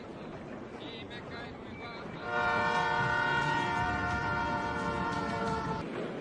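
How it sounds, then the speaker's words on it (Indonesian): A passenger train travels in a 1993 Sniper film scene, with a rumbling run joined midway by a loud, sustained horn blast that holds for several seconds before fading; a voice is heard over part of it. "Miller dan Thomas berangkat menuju lokasi dengan menaiki kereta api."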